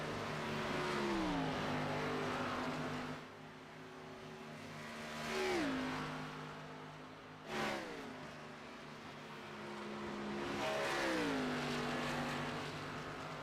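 Race cars lapping the Indy track during a USA Pro Cup Series race, engines droning at high revs with several loud pass-bys, each engine pitch swooping down as it goes past, heard at a distance without talk.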